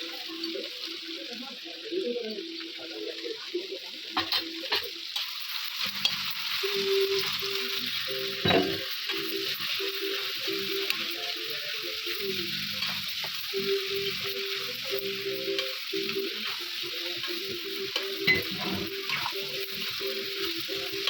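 Spices such as chilli powder, salt and coriander powder fry and get stirred in a pan, with a continuous sizzle and intermittent scraping and clatter through the whole stretch.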